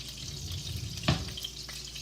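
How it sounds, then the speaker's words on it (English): Meatballs fry in a pan with a soft, steady sizzle and a single brief clatter midway. "Now they seem like they're really sizzling, so I'm going to turn them down a little bit"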